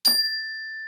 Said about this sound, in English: I will ring the gong